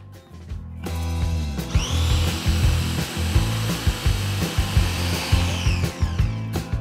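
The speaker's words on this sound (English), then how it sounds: "then we'll let the processor do its thing" A food processor blitzes onion, herbs and extra virgin olive oil into vegetarian pesto, its motor spinning up after a second into a loud close whir with rhythmic chopping thumps and no talk.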